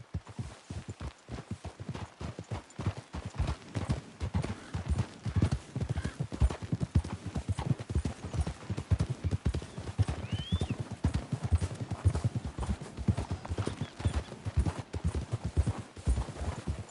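Horses' hooves clip-clopping at a steady trot across ground in Red Dead Redemption 2, a continuous rhythmic stream of close hoofbeats with a brief whinny.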